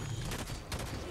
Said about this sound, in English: What is shooting me?